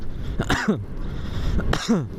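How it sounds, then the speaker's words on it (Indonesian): Two harsh, raspy coughs from a chronic habitual cough, not flu, close to the microphone, spaced about a second apart, with a quiet pause between them. "kalau saya udah batuk, ini batuk bawaan ya"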